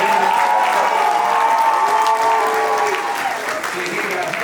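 A conference crowd applauds the chairmen at the front of the room, sustained dense clapping that tapers slightly near the end, with a voice speaking faintly over it.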